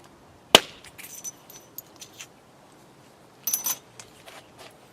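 Thin flakes are knapped off a flint Clovis point: a sharp, glassy crack, then scattered faint ticks, and a second brief cluster of crisp clicks a few seconds later.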